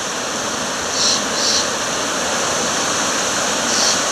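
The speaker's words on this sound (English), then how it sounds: "right out there in the middle where the water's flowing pretty good" Swollen stream running high with floodwater after overnight rain in California, a steady loud broadband rush of flowing water with no talk, swelling briefly a few times.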